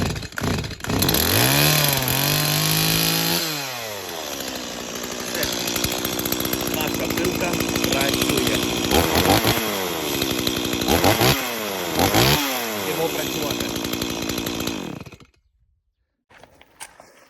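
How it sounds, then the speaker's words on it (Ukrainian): A Stihl MS180 chainsaw engine roars close by, revving up and down several times with steady high buzzing, then cuts off abruptly near the end. "Заводимо нашу бензопилку."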